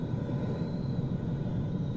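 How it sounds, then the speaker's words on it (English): Wind rushing around an aircraft in Microsoft Flight Simulator 2020, a steady broadband roar with a faint high whine running throughout, continuous and fairly loud, with no distinct clonks standing out. "So some of this wind you can hear and stuff like that, you'll hear like clonking around."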